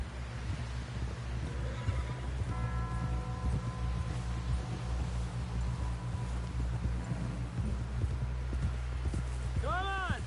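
Horse hooves clip-clop at a steady walking rhythm in the Red Dead Redemption II game, running continuously under a voice and a low ambient hum, with a brief whinny near the end.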